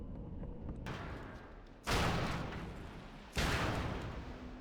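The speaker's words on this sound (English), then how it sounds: "Cannons, man." Cannon fire in the video game World of Warcraft, two heavy booming blasts about a second and a half apart over a rumbling battle background, fairly loud and close.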